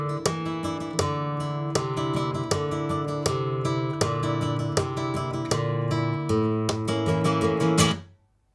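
A nylon-string guitar plays a brisk flamenco bulerías phrase in a two-beat feel, strummed chords and sharp accents in a driving rhythm, close and clear, then stops abruptly.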